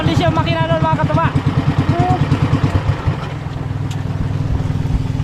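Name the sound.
jet ski engines running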